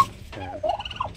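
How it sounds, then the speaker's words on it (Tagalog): A domestic turkey hen kept on a backyard Philippine breeding farm gobbles and clucks in a short, close burst of rising and falling calls, with no talk over it. "lumabas na yung maldita nating alagang pabo"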